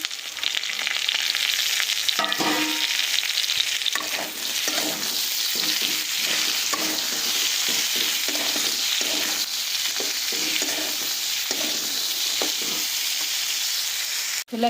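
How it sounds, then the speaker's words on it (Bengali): Chickpeas are added to fried potato and eggplant in hot oil for a vegetarian banana-flower curry, giving a loud, steady sizzle with repeated scraping strokes of a spatula stirring throughout. "আলু আর বেগুনটা ভাজা হয়ে গেছে, এতে বেশ কিছুটা ছোলা দিয়ে দিচ্ছি।"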